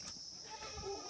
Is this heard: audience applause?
no